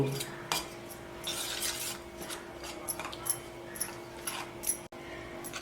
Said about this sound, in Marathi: याला आता चांगलं मिक्स करून घेऊ